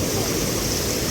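River water rushes past nearby in the monsoon season, a loud, steady broadband roar of flowing water with no other sounds.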